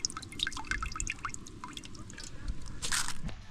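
Water drips and splashes steadily as rice is washed nearby, with soft wet trickles and sloshing close by.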